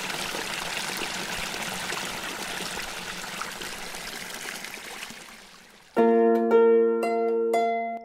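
Clear, very cold stream water trickles and rushes steadily on a hillside path near Dolen, Bulgaria, a broad close wash of flowing water that cuts off abruptly near the end, when a sustained tonal sound takes over.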